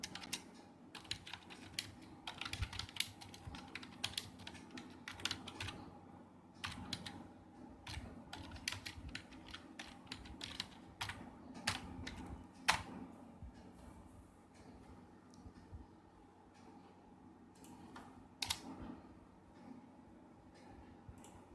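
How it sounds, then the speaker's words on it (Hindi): Rapid, irregular keystrokes on a computer keyboard while text is typed into MS Word, close and fairly soft, with brief pauses between bursts and no talking. "जैसे हम कुछ टाइप करना शुरू करते हैं।"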